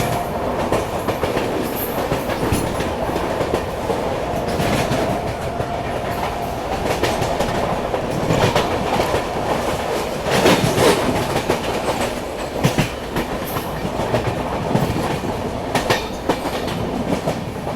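A Swatantrata Senani Express train races at high speed past Tilak Bridge without stopping. A loud, steady rumble rolls on close by with rhythmic clickety-clack from the wheels, and no voices are heard.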